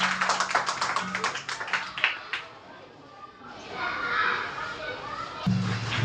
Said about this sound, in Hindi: जोरदार ताली से स्वागत करेंगे इनका।